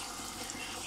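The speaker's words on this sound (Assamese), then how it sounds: "এতিয়া দি দিম পানী অলপ" Water pours steadily into a pot of Assamese pork curry cooked with elephant apple, a brief, continuous gushing splash with no talk.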